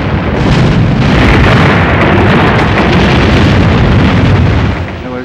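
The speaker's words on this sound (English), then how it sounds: "the destroyer was immediately struck by 37 shells." A destroyer is hit by a barrage of shells, and the result is a loud, sustained roaring blast of explosions lasting several seconds before it tapers off slightly. No voices are heard.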